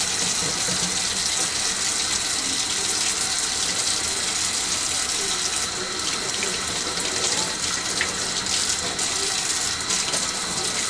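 Hot tap water running steadily into a kitchen sink while dishes are washed with gloves on, a constant close hiss and gush of flowing water with faint clinks underneath, no speech.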